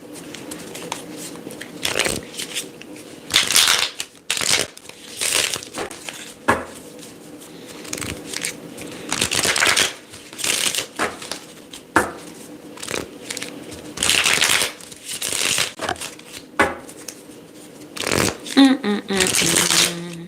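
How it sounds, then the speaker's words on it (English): Tarot cards are shuffled in repeated bursts of riffling and slapping, close by, with pauses and some soft talking between. "Let me shuffle these ones."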